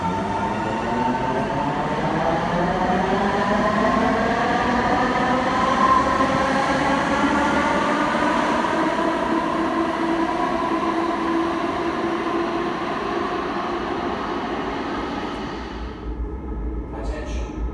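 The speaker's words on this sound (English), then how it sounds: "Eastbound train to Blair is arriving." An eastbound O-Train Line 1 light rail train pulls into Rideau Station, its motor whine rising and shifting in pitch over a loud, steady rolling rumble that eases near the end.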